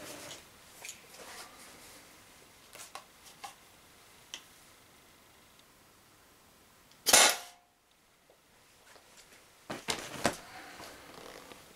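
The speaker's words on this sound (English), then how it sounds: "So let me just shoot into the trap there." A single sharp paintball shot from a Tippmann TCR marker fired into a trap, one loud burst partway through, with quieter clicks and ticks scattered before and after.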